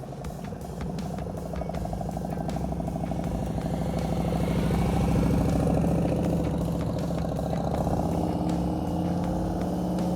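A motorcycle engine idles and putters steadily with a low, even rumble throughout as the rider moves at slow speed during control practice, heard from fairly close.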